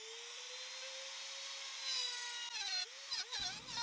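A wood router cuts wood scraps in a steady, close high-pitched whine, then changes pitch and stutters in its last second as the cut finishes.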